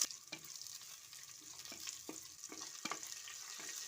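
Sliced onions and slit green chilies frying in a pan for a Kerala-style fish curry, a continuous soft sizzle broken by scattered crackles and stirring scrapes, quiet and close, with no voices.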